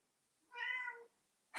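A house cat gives a single clear, drawn-out meow close by, in an otherwise quiet room, followed by a brief noise burst.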